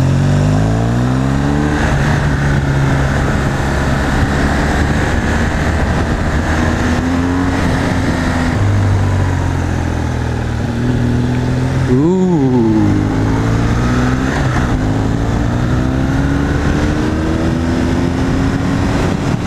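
A 2016 BMW R1200R motorcycle engine drones loudly and steadily while riding, its pitch rising and falling with throttle changes and gear shifts, under heavy wind rush and with no one talking.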